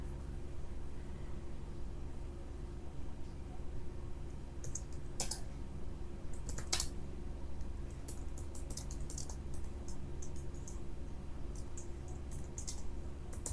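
Typing on a Mac computer keyboard while writing C++ code in Xcode: a fast, irregular run of light key clicks over a steady low hum, close and moderately quiet, with no talking.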